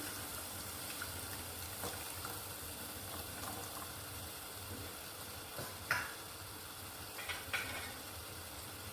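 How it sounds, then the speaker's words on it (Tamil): Tamarind water being poured into a pot of fish kulambu, a soft, steady watery splash and low simmering hiss with a few faint clinks, no talk. "புளி தண்ணி இருக்குல்ல, அதை ஊற்றிடலாம்."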